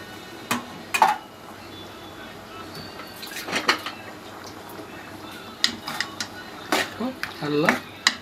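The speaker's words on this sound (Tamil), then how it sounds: "நல்லா மசாலாவை கிளறி விட்டு" A spoon stirs potato masala gravy in a pan with scattered light scrapes and clinks of metal on metal, fairly quiet and intermittent, while a person talks.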